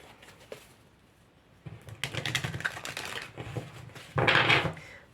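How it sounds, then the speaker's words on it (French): Tarot cards shuffled and drawn, heard as dry papery riffling and rapid clicking flicks in a couple of bursts, the last one loudest and close by, with quiet handling noise in between. "Je vais tirer des cartes de tarot."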